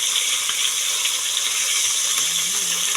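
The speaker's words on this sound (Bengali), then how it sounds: "এই আমার শাশুড়ি ভিতরে রুটি ভাজছে।" Roti frying in a pan, a steady bright sizzle that runs unbroken and fairly loud throughout, with faint household sounds beneath it.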